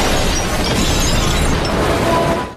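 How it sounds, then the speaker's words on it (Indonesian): An RPG round explodes in an ambush scene from the action film Gemini Man, a dense, loud blast with crackling debris that rumbles on steadily before cutting off abruptly. "mereka disergap pasukan Gemini dengan sebuah tembakan RPG."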